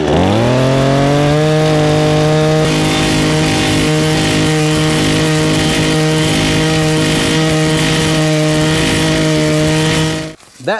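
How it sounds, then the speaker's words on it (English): A gas-powered post hole auger engine starts and revs up to a loud, steady drone that runs close and continuous while it digs into the ground, then cuts off abruptly at the end. "So we'll get this started and see how easy this digs in. Got to turn the switch on, got the choke over."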